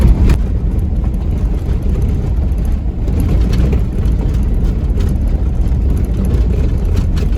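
An overland vehicle rolls along the rough Tsalagi Adventure Trail in Oklahoma, its low engine drone steady and close with rattling bumps throughout, and no one talks.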